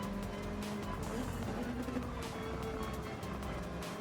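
Race cars in Gran Turismo 7 run on track, including a Supra GT500 and a Peugeot, with a steady engine drone and shifting pitch through the turns at moderate volume.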